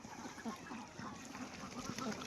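Ducks quacking in a confined duck farm at Chalan Beel, a dense, continuous flock chatter close by with no pauses, steady and fairly loud throughout.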